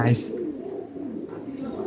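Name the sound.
Madrasi pigeon cooing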